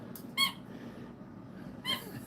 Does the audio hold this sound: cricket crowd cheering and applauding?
no